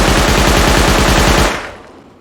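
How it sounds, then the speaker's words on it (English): A custom SMG fires fully automatic in the video game Rust, a loud, rapid, even string of shots lasting about a second and a half before cutting off and ringing away into a fading tail. "So, first of all, we're going to test out the custom SMG. So, this is the recoil without any pull down whatsoever."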